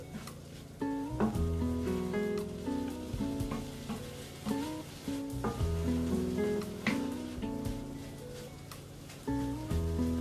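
Green chilli with its seeds sizzling in a hot pan while being stirred, a steady crackling fry broken by repeated clinks and scrapes of the utensil against the pan, no voices.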